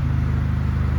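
A 2.2-litre station wagon engine idles close by with a smooth, even low rumble and a steady rapid pulse, no revving and no voices.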